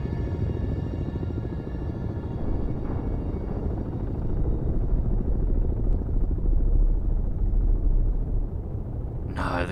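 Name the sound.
helicopter in video game Cold Waters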